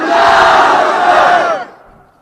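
A large rally crowd at a public meeting in Bidar, Karnataka shouts a loud, unified chant response, roaring together for about a second and a half before it quickly dies away.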